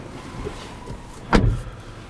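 An electric window on a Volkswagen Golf 1.5 TSI MPV whirs briefly, ending in a louder motor surge and a soft thump as the glass reaches its stop, with no talking.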